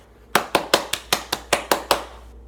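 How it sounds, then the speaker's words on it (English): One person claps hands nine times in an even, steady rhythm. The claps are sharp, close and fairly loud, with short quiet gaps between them and no other sound. "I don't even know why I'm clapping."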